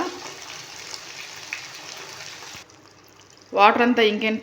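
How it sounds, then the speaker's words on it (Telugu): Half a glass of water poured into a simmering methi chicken curry gives a steady, close gushing splash for a few seconds, then stops, and a voice starts talking. "ఇంకిపోయిన తర్వాత 1/2 గ్లాస్ వాటర్ అనేది యాడ్ చేసుకోవాలి."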